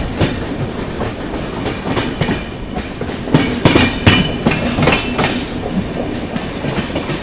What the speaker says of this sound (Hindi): ट्रेन अपनी जो है भुसावल जंक्शन पहुंच रही है